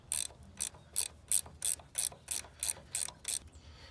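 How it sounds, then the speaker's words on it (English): A ratcheting gear wrench clicks in a steady series of about ten crisp bursts as it turns a bolt on a Massey Ferguson 1100-series tractor, close and fairly quiet, with brief pauses between strokes. "If you're using one of these ratcheting gear wrenches, they're great and they're handy."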